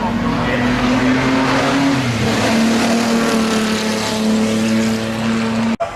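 A small 125cc or 115cc racing motorcycle engine at a motoring pageant's start line gives a loud, close, buzzing high-revving note that holds steady with slight pitch shifts, then cuts off abruptly near the end.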